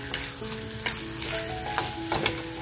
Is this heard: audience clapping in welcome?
no